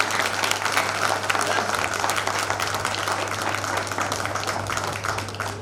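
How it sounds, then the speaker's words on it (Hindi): Audience applause for a poet at a Hindi kavi sammelan, a steady, dense clapping from a crowd that holds at full strength throughout, with a constant electrical hum underneath. "जोरदार तालियों के बीच"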